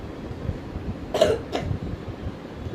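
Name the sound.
cough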